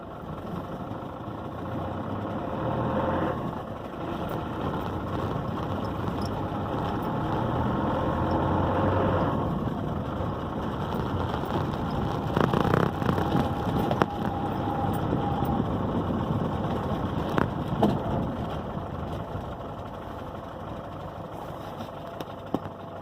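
A 1996 Land Rover Defender 90 with the 300 TDI diesel engine drives on a private road, a steady mid-pitched engine drone running throughout with slight swells in load and faint knocks, no talking.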